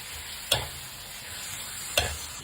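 Minced pork stir-frying in a pan, a steady bright sizzle with two sharp knocks of the spatula against the pan about one and a half seconds apart, close by with no voices.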